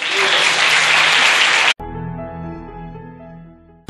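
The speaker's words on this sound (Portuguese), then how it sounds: "Você pode aplaudir o Senhor?" Church congregation applauding during a sermon, a dense burst of clapping for under two seconds that cuts off abruptly into a held tonal organ or keyboard chord.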